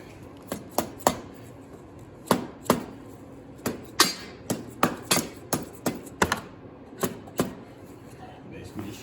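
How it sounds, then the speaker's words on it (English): A tool tapping and chopping at an engine cylinder gasket on a 70cc dirt bike, a series of sharp, close impacts in an irregular rhythm, with someone talking in between. "Basically just using this to kind of break up the gasket there."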